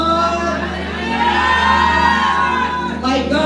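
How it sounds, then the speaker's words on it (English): A church congregation at a Holy Ghost revival in Los Angeles cheers, whoops and shouts praise, a loud, dense crowd roar sustained throughout, with a steady low hum beneath. "Give Pastor Alex Holton another round of applause."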